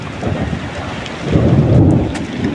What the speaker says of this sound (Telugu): ఎట్లా ఉరుముతుంది అక్కడ చూడండి, ఉరుముతుంది